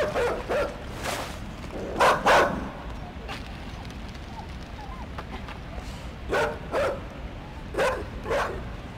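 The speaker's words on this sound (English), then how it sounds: "I am being chased by a dog." A dog barks during a chase in the video game Inside, with several sharp, fairly close barks coming in short clusters separated by quieter stretches of running, tense ambience.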